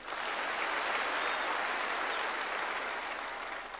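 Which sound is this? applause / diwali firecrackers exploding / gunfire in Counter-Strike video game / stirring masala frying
applause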